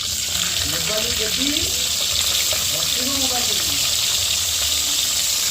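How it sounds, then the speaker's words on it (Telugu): Onions and pulao spices frying in hot oil, a steady loud sizzle running throughout with a voice speaking over it. "ఆనియన్స్ వేసుకొని ఫ్రై చేసేసుకోండి"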